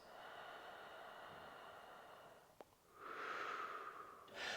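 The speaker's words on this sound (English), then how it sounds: "drawing that air back to the back of my throat and down my windpipe" Slow inhalation drawn through the back of the throat during a diaphragm release exercise, a soft airy rush that swells near the end, preceded by a quieter steady breath and a brief click.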